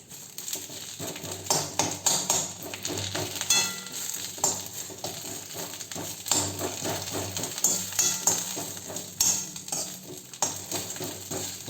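Thuthuvalai leaves frying in a pan for rasam, a steady sizzle with frequent scraping and stirring clatter of a spoon against the vessel throughout.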